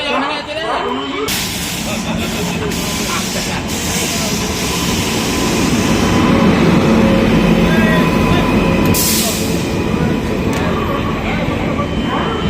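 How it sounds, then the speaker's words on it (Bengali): Doon Express train (13009) rolls into a station platform on the Howrah–Haridwar route with a loud, continuous rumble and clatter that swells midway, while people talk nearby. "আমাদের দুন এক্সপ্রেস ট্রেন ঢুকে গেল"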